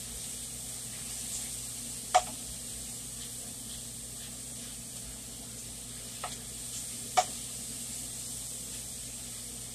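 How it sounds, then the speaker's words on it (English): Food cooking in a pan after garlic powder is added for a cheeseburger meatloaf meal, with a steady soft sizzle and hiss, a few faint clinks of stirring, no talking. "garlic powder, give it a good stir"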